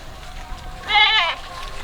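Goat bleating once, a single short wavering call heard close over faint background noise.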